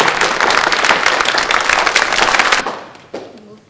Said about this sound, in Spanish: Vamos a recibirle con unos aplausos a los amigos que vienen de San Juan.